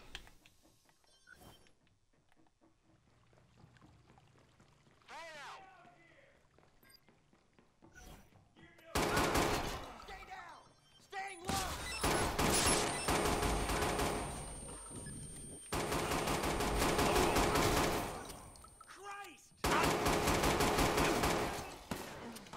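Gunfire in the video game Watch Dogs 2, loud sustained bursts of shots and rattling automatic fire in several long stretches, preceded by quieter game sounds and brief talk.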